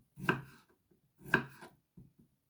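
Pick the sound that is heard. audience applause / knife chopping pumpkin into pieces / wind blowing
knife chopping pumpkin into pieces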